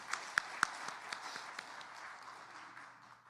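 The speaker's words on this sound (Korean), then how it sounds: "하나님께 영광의 박수" A church congregation applauds in a short, fairly quiet burst, a few sharp claps standing out at the start before the clapping fades out.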